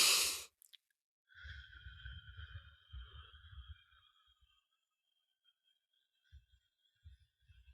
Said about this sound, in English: That was my quick inhale and my long exhale.